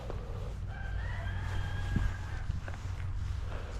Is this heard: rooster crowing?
yes